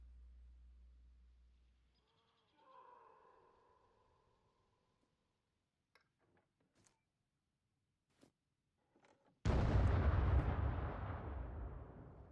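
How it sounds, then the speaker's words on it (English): In the video game Scum, a loud explosion bursts suddenly after quiet stretches of faint clicks and footsteps, then rumbles and decays over a few seconds. "That was a loud-ass explosion."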